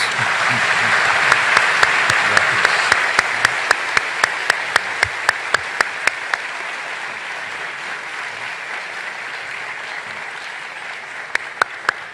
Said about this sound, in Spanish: Quiero pedir un fuerte aplauso para los dos ponentes